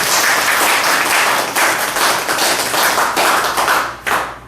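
Audience clapping steadily for a guest lecturer at a university special lecture event, dense and close, with a few swelling bursts and no talking.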